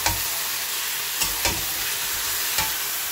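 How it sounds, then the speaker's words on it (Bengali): Chicken pieces fry with browned onions in a pan, hissing in a steady close sizzle while a spatula stirs them with a few soft scraping strokes, and no voices are heard. "এবার চিকেনটা আমি নেড়ে চেড়ে নেবো একটু ভাজার জন্য।"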